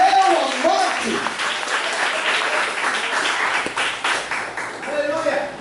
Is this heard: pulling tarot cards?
no